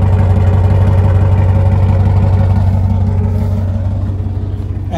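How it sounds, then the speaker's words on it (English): A Range Rover P38A V8 idles with a rumbly aftermarket exhaust, a deep steady burbling throb close by that eases slightly toward the end. "we do have a bit of a rumbly exhaust"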